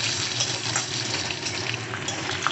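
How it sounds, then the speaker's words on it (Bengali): A spice tempering sizzles in hot oil in a pan while being stirred, a continuous dense crackling hiss with small scrapes and clicks, close and fairly loud, with no talking. "ভালো করে ফোড়নটাকে নাড়াচাড়া করে নেবো"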